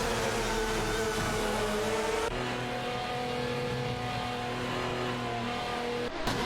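Racing game engines from a Ferrari 575 GTC and Chevrolet Corvette C6-R in an AI-driven race, a continuous high droning whine with shifting pitch as cars run together, steady and moderately loud with no talk.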